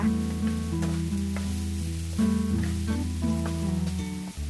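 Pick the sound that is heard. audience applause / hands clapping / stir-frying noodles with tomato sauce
stir-frying noodles with tomato sauce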